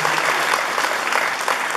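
A crowd applauds at a roof handover ceremony for a high school in Naupan, steady dense clapping that carries on throughout at close range.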